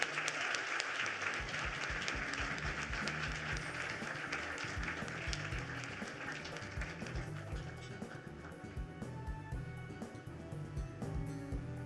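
Audience applause welcoming a young woman onto the stage at the Muhammad Ali Humanitarian Awards, steady dense clapping filling the room throughout, with a few quiet voices mixed in.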